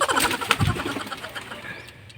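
Pigeons nearby, with soft cooing and brief wing flaps over a busy background, no talking.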